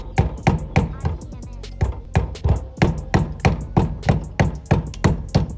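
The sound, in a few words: tapping on a 86top aluminium scooter engine during disassembly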